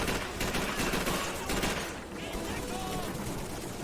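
Gunfire in the video game Call of Duty 3: dense, continuous rattling bursts of shots and volleys that run steadily throughout, loud and busy.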